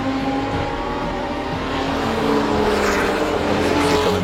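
A race car on a circuit, a loud steady engine tone building slightly as it drives past, with no talking.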